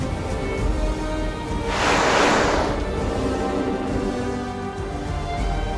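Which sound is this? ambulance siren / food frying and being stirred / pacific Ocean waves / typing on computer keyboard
pacific Ocean waves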